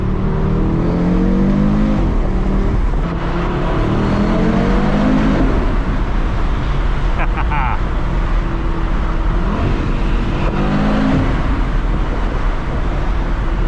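A 2025 Audi RS3 engine revs hard and climbs, surging repeatedly against the rev limiter, with road and wind noise loud throughout.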